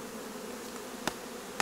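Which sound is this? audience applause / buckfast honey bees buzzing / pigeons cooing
buckfast honey bees buzzing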